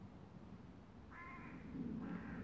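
A magpie calls twice among old goods-yard ruins, short harsh chattering bursts that sound faint and distant over a low background hum.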